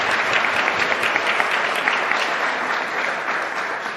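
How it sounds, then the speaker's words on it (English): An audience at an Indigenous community announcement applauds, a dense, steady burst of clapping that stays loud for the whole stretch before easing slightly. "Let's give a hand to NVIT again."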